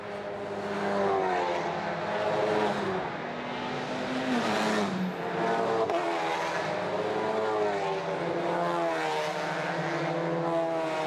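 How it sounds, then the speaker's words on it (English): Touring race cars, including a Peugeot 308 and a Volkswagen Golf, roar past on the Kemmel Straight at Spa, several engines overlapping with gear changes and rising revs, loud and close, without voices. "the cars making their way down then through the Kemmel Straight"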